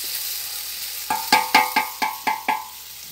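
Chicken cooks in a pot on a wood-fired stove. After a quiet start come six sharp metallic taps and clanks, like a utensil striking the pot, over a faint background.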